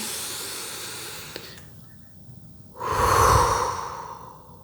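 A person draws a slow, deep breath and lets it out, a soft airy inhale followed after a short quiet gap by a fuller, louder exhale, close and with no talking.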